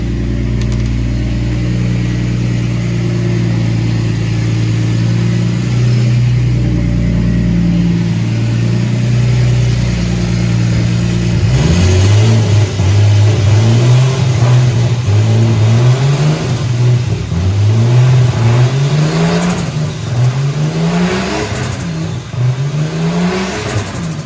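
A car engine revs hard on a dyno, a steady loud drone climbing into repeated rising and falling rev sweeps in the second half, with no talking.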